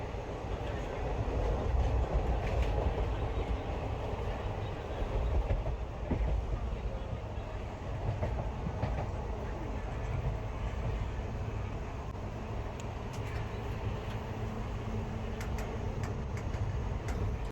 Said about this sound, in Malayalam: പെട്രോളുമായിട്ട് പോകുന്ന ഒരു ഗുഡ്സ് ട്രെയിനാണ് നമ്മളിപ്പോൾ കടന്നുകൊണ്ട് പോകുന്നത്